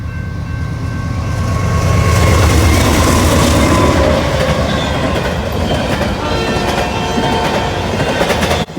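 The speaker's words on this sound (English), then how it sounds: "BNSF 1000 West was an empty stack train." An empty BNSF double-stack freight train, led by a 1996-built locomotive, rolls past close by with a loud continuous rumble and rhythmic clickety-clack of wheels over rail joints.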